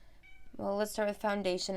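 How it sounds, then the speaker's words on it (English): A new cat meows repeatedly for attention, with loud, drawn-out cries close by while someone talks over them. "I'm sorry if you hear meowing."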